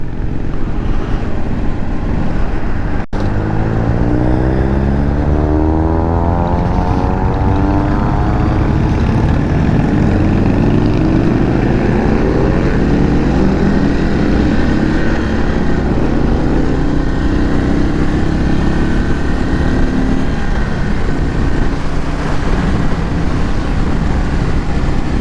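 A 2022 Indian Chief Dark Horse motorcycle engine revs hard near 4,000 RPM, a loud, continuous roar whose pitch sweeps up and down for the whole stretch.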